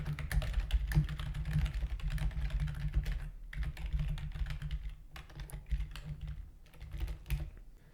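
Java code is typed on a computer keyboard in a steady stream of close keystrokes, pausing briefly twice, with no speech.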